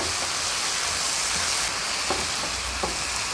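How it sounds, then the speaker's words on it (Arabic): Vegetables sizzling steadily in a hot pan as cauliflower is sautéed with peppers, onion, garlic and a little ketchup, a dense continuous frying hiss with a few soft stirring clicks near the end. "هنشوح القرنبيط مع المكونات"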